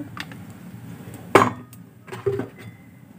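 A metal wok (karai) being set on a stove for frying potatoes and beans, giving a couple of sharp metallic clinks and knocks against quiet background.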